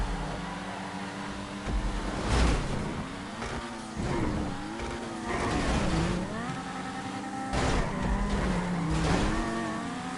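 A Pariah supercar drives hard in a video game, its engine note rising and falling through repeated gear changes, with occasional tire squeal and no talk.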